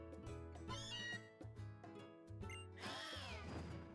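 Synthesized meowing from a cat Pokémon in Pokémon Ultra Sun sounds as a few pitched, wavering cries layered over busy game music, close and fairly loud.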